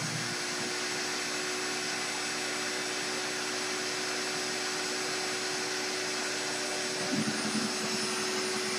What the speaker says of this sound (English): You turn the vacuum on.